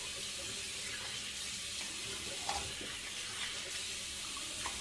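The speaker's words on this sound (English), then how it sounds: "Hot water to rinse." Hot water runs from a tap for rinsing after a shave, a steady, fairly faint hiss and splash that continues unbroken throughout.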